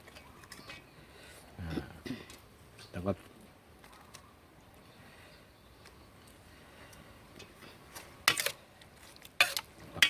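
A spoon or utensil tosses a Thai pork salad with lemongrass and shallots in a bowl, giving soft scattered clinks and a few sharper scrapes and taps. Someone talks quietly over it.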